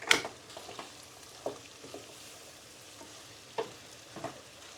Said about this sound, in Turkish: Şimdi güzel bir karıştırma yapalım